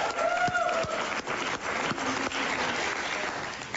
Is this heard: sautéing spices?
no